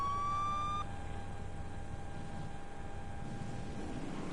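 Police car siren in a video game, a short electronic wail that sounds briefly at the start, then gives way to a steady engine hum and background noise.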